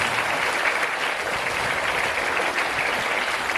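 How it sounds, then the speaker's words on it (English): A school audience applauds a violinist and mridangam player after a music performance, a sustained, even roar of clapping from many hands filling the room without a break. "Let's appreciate them by giving a very good round of applause."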